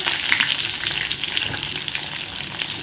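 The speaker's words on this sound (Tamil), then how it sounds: "இப்போது கருவேப்பிலை கட் பண்ணி வச்சுருக்க வெங்காயத்தை போட்டுக்கலாம்" Sliced onions hit hot oil with popping mustard seeds, cumin and curry leaves, a loud, dense crackle and hiss with sharp spits, heard up close and without pause.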